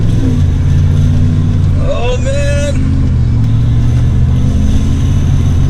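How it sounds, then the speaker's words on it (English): A pickup truck, a Ram Rebel or Roush F-150, revs its engine while cornering hard on Barton Street, a loud steady drone inside the cab with a brief exclamation from a man partway through. "Here we go, we're all revved up."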